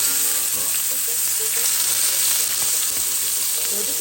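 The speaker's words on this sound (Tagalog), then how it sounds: "So let them fry until get brown." Pork belly slices for Korean samgyeopsal frying in hot oil, a steady dense sizzle and crackle running unbroken and fairly loud throughout, with faint stirring bumps and no voices.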